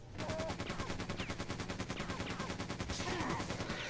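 Machine gun fire in Quake 2 Remastered, a continuous fast burst of evenly spaced shots holding a steady loud rhythm throughout, with faint game effects beneath.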